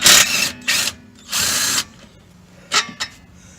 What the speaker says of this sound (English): Gotta love power tools.